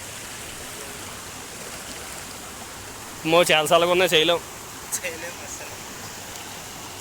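A cold mountain stream near Shillong runs in a continuous broadband rush, while a person speaks briefly over the flow partway through.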